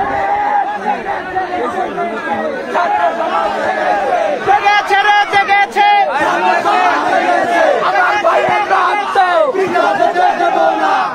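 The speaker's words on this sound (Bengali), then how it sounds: "সেই অবস্থায় এখানে সাধারণ ছাত্র জনতা স্লোগান দিচ্ছে" Students and ordinary people massed at a police barricade near Khulna University, chanting slogans in loud, rhythmic unison, repeated shouted phrases rising and falling over a constant crowd din, close and forceful.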